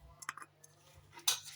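Eggs being beaten with garlic powder, onion powder, paprika, chili, coriander, salt and pepper in a bowl, a few sparse metallic clinks and taps ending in a louder scrape.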